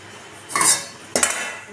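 A stand and then a cake bowl set down inside a preheating pan, producing two distinct metallic clanks about half a second apart, loud and close.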